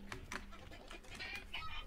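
Chicken in the game Hunt: Showdown, a few quiet, quick clucks and squawks in irregular bursts over a murky background, faint and close-ish.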